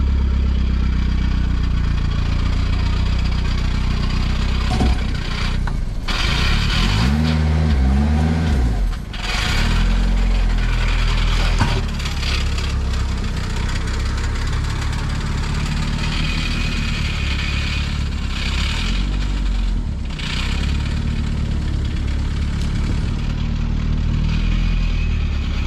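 A B20 VTEC engine in a wagon with rod knock runs steadily as the car rolls out, a loud, continuous engine drone with a few brief revs and passing bumps over about twenty-five seconds.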